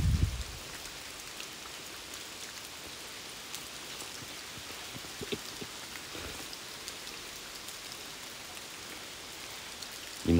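Rain falls hard and unbroken beside a mountain road tunnel in Kanagawa, a loud even hiss of countless drops that holds for several seconds, bracketed by brief handling bumps at the start and end.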